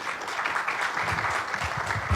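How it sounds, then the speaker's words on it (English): Audience applause at a state business association annual meeting, steady dense clapping throughout with a few louder claps near the end and faint voices mixed in. "If you feel like applauding, do it."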